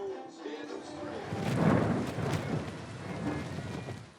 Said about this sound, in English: Joanna's guests are sheltering from the rain and waiting for word about whether the Highland Games will be cancelled